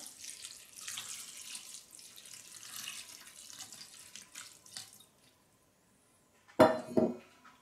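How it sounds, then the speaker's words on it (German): A litre of cold water runs from a tap onto elderflower blossoms in a kitchen, a steady close pour that stops, then a short loud clatter of dishes. "Darüber gebe ich jetzt einen Liter Wasser, kaltes Wasser."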